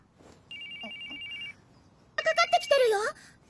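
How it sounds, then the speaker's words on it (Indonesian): A phone rings with a steady electronic trill for about a second, then a short burst of warbling ringtone melody. Both are near and clear against a quiet background. "Lalu tiba-tiba telepon dari Mitsuki berbunyi"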